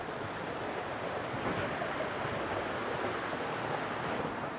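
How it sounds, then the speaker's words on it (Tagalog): Balite Falls on the Kaytitinga River in a forested spot in Alfonso, Cavite, heard as a constant broadband rush of falling water, dense and unbroken, with no voices. "Tapos, ito nga, yung Balite Falls."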